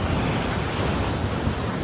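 Ocean waves surge and crash along the rocky shore at Udupi beach, a steady loud roar of surf with wind buffeting the microphone throughout and no voices.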